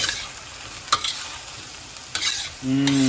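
A spatula scrapes and stirs garlic ginger sauce into cashew chicken in a hot pan, with a steady sizzle under sharp metallic clacks and a low hum rising at the end, no speech.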